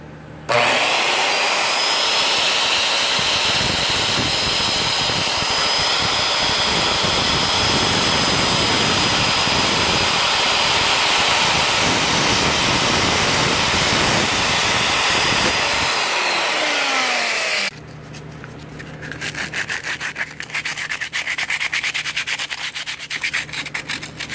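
A power sander roughs up the cured wooden hull of a home-built boat before epoxy, with a loud, continuous whirring grind for most of the time before cutting off, followed by a quieter, scratchy hiss.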